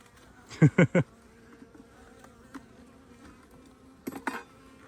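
Honey bees, many of them drones, buzz faintly around a hive against a quiet background, with a few short louder bursts of buzzing as they pass close by.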